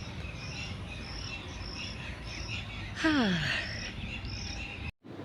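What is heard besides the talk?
birds chirping outdoors during a morning walk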